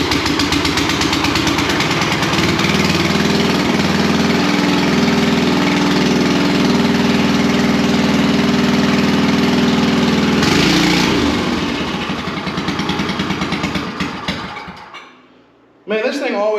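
An old 45-year-old tiller engine runs steadily indoors, loud and close with a rough, even drone, then cuts out near the end, leaving a brief quiet tail.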